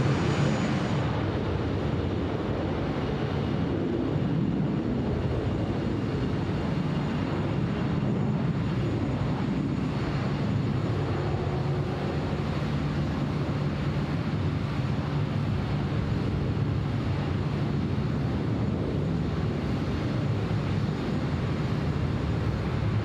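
Classic airliner departing Sydney Airport from runway 16 right, a steady loud broadband jet roar with deep low rumble sustained throughout, no voices.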